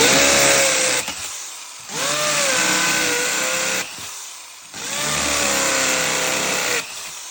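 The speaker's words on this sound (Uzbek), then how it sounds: "betonni ham, g'ishtni ham bemalol teshib perforator funksiyasini ham ishlatsa bo'ladi" A 900 W hammer drill bores into concrete in three loud, close bursts of harsh whining rattle, each about a second apart and separated by brief lulls.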